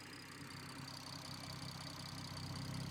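A BMW M140i's B58 engine idles steadily after starting, a low continuous rumble with a faint high whine, close and fairly quiet, with no voices over it.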